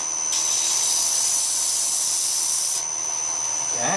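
Sandpaper pressed against wood spinning on a lathe gives a loud, sharp hiss over the turning whine, lasting a few seconds before the sanding stops abruptly.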